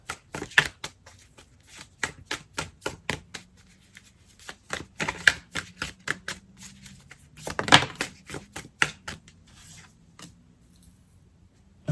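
Oracle cards shuffled by hand on a table, giving a quick, uneven run of crisp flicks and soft slaps that come in bursts and pauses, close and fairly quiet, with no talking.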